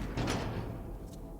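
A door opening in the dark world of REANIMAL, a brief creaking, scraping swing at the start fading into a low droning ambience, with a faint scrape near the end.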